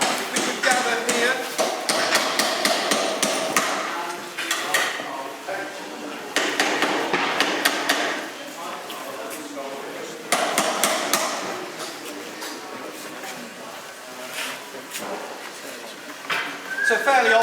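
Hammer blows ring out in quick, uneven bursts at the Morgan car factory as workers build ash hardwood body frames. Voices carry faintly in the busy workshop.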